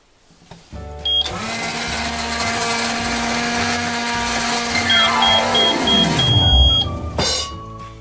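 A microwave oven runs with a steady hum and tonal drone for several seconds while being programmed, with a few electronic beeps near the start and a string of short beeps toward the end, no talking.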